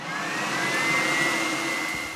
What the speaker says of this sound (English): Then, when the party's over, vacuum up napkins, food scraps, or confetti.